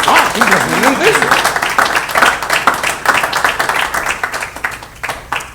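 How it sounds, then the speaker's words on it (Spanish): A church congregation breaks into sustained, fairly loud applause, the clapping continuing throughout while a voice talks over it. "Denle un aplauso al rey, hermano."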